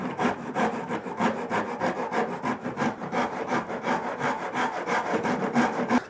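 Spoon gouge carving wood on a scratch-built guitar, a steady run of rhythmic scraping strokes, close and fairly loud, with no talk.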